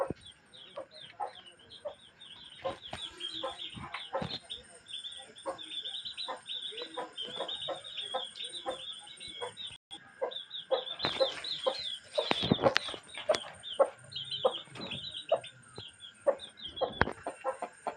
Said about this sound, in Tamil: அடுத்து நம்ம சேவல் பையன்.